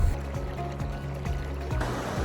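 A river in Vietnam flows steadily with a continuous close rushing and burbling wash, even in level throughout, with no voices.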